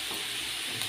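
Ground spices such as chilli powder, turmeric, coriander and garam masala sizzle steadily in a hot pan for a pumpkin curry, a continuous close frying hiss with faint stirring and no talk.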